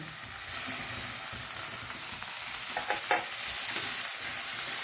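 Tomatoes stirred into a frying spice paste for a Vidarbha-style baingan bharta, with a soft steady sizzle and a few light spoon scrapes near the end, fairly quiet throughout.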